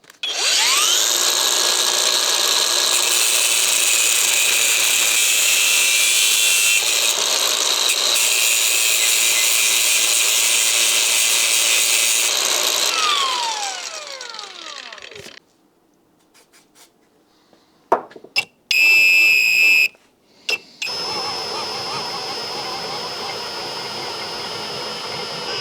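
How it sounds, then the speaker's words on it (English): A diesel compression tester fitting is cut off with a steady, loud, high-pitched whine that runs for about fifteen seconds, stops, and then gives way to brief bursts and a renewed hiss. "What I'm going to do is to cut off this and then make a thread for a grease nipple."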